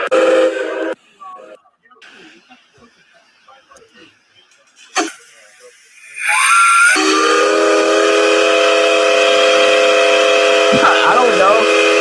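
A full-size steam whistle blasts loud and steady for several seconds with a shrill, hissing tone, following a stretch of quieter sounds and short bursts.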